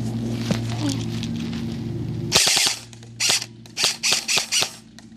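Airsoft M416 rifle firing, a quick automatic burst followed by several short rapid bursts in a rhythmic pattern, loud and close, after a steady motor hum.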